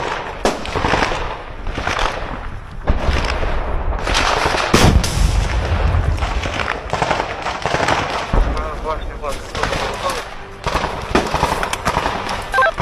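Shoulder-fired RPG-7 launches and gunfire ring out during an urban battle in Bakhmut, with sharp, loud blasts repeated at irregular intervals over constant rumble and voices.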